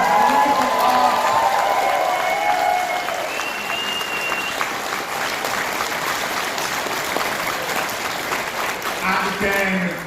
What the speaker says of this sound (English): And again, just a big round of applause to our cast.